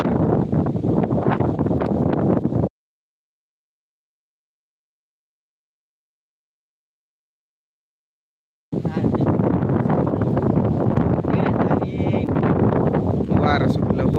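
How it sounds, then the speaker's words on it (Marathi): Wind buffets an outdoor phone microphone during a live stream, a loud constant roar under a speaking voice, cutting out to silence for several seconds before the gusting and talk return. "पुन्हा वारं सुटलं"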